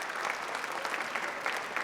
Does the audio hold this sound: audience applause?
yes